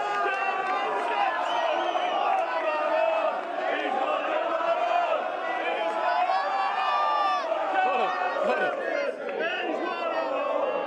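A crowd of about 150 people cheers and whoops to welcome a Barnsley boxer, a lively wash of shouts and chatter sustained throughout, with a voice speaking up close over the noise.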